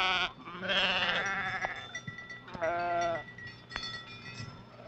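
A Navajo flock of sheep bleats repeatedly, with several loud, close, wavering calls overlapping in irregular bursts and separated by short pauses, with no talking.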